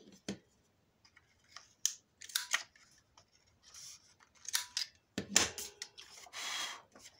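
Scissors cutting paper for a small handmade album, rounding the bottom corners in short close snips and crisp slicing bursts separated by brief pauses.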